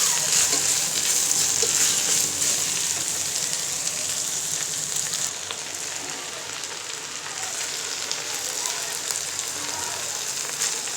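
Jute leaves frying in hot oil with onion in a pan, a steady close sizzle and hiss throughout, with faint stirring scrapes and no speech.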